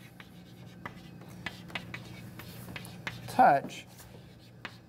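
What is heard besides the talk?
writing on a board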